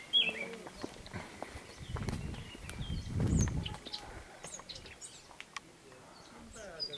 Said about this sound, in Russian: Птички, невелички.